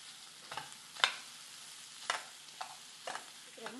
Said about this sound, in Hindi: सारे मसालों को हम अच्छे से मिलाते हुए मिक्स कर लेंगे